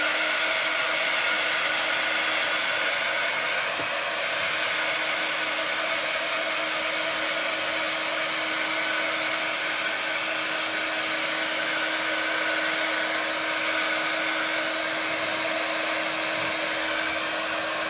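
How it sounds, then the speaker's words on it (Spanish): A hair dryer blows steadily and loudly at close range, drying paint on a shabby vintage planter, a constant whooshing drone with a low hum underneath and no speech. "Vale, vamos a volver a secar."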